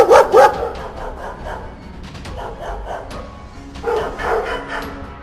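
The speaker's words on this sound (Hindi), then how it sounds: "रात होते ही कुत्ते अजीब सी आवाज़ें निकालने लगते हैं।" Dogs barking at night at Dumas Beach: a cluster of loud, close barks and yips at the start, a quieter stretch of scattered yelps, then another burst of barking near the end.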